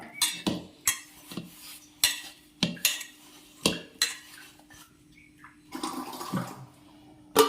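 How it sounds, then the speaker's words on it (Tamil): Wheat flour dough for poori being mixed and kneaded by hand with water added bit by bit, giving repeated wet slapping and pressing sounds with clinks against a metal bowl, close and fairly loud with no talking. "கொஞ்சம் கொஞ்சமாக தண்ணி ஆட் பண்ணி பனைஞ்சிக்கணும்"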